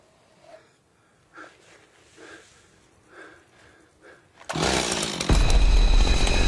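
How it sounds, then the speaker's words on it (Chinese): A chainsaw in a 1976-set American horror film roars in loud and harsh after several seconds of quiet breathy snorts and sniffs, then holds a heavy, sustained buzz to the end. "白衣男也听见了电锯的声音"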